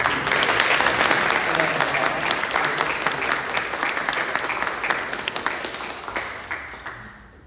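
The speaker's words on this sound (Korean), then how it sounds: "우리 환영하는 박수" A church congregation at a Sunday worship service applauds to welcome newcomers, a full burst of clapping that starts strong and gradually thins and fades over several seconds.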